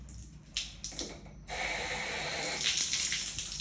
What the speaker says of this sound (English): Open the tap.